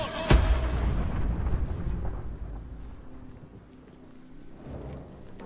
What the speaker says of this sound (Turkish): Gök gürültüsü patlamasıyla buna çakıyorsun.